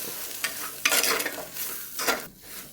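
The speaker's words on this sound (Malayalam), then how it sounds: "നല്ലതായിട്ട് ഇളക്കി കൊടുക്കാം." Masala being stirred in a pan for Kerala-style drumstick sambar, with close scraping strokes and a light sizzle repeating in quick, uneven bursts.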